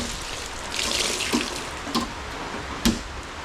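Steady rain falls outdoors with a constant wash of noise. A few sharper drips or splashes stand out now and then.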